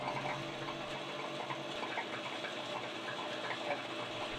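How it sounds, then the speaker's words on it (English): A Broaster pressure fryer's pump runs water through the filter line in a steady, dense gushing rush with a mechanical hum beneath, continuous and close for several seconds. "purge the filter line again by running the pump for 15 seconds"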